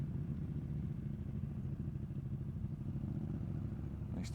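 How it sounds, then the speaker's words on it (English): A Ducati motorcycle rides just ahead on a road course during the NW200, its engine a steady mid-pitched drone blended with the rider's own Moto Guzzi V85TT and rushing road noise, with a faint brief rise at the end. "Nice Ducati in front of us."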